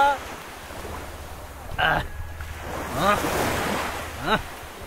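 Sea waves roll at Penang beach at night, a soft surf wash under wind noise, with brief voices and laughter breaking in over it at intervals.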